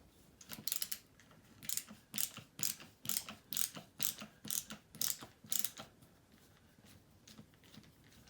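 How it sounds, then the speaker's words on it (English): A screwdriver turns out the screws holding an integrated LED pendant light, a series of about a dozen quick ratcheting clicks in rhythmic bursts, close and fairly quiet with no talking. "It looks like there's 2 screws to take it down. Let's grab my screwdriver."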